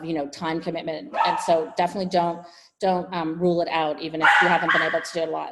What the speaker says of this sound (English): Sorry, my dog is barking in the background.